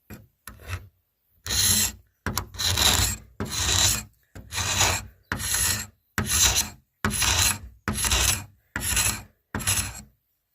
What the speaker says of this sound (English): the scraper and scrape the living hell out of the old paint